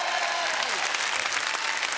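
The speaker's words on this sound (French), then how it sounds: "Applaudissez cette jeune fille, quand même, qui m'a donné la bonne réponse." Studio audience on a French TV game show applauding a young woman contestant, a brief burst of dense, even clapping close and loud throughout.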